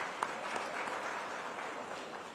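Applause from an audience welcoming award winners at the Hadoti Ratna award ceremony, a steady broadband wash of clapping holding evenly throughout with no voices over it.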